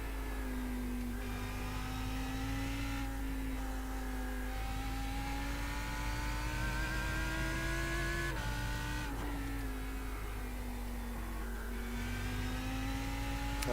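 A Lamborghini Huracan GT3 EVO race car in iRacing, its engine droning loud and close under throttle, pitch rising and falling through gear changes with brief dips as the revs drop and climb again.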